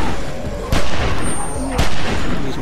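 Two loud gunshots in The Walking Dead game, each a sharp booming crack about a second apart, up close over steady background ambience.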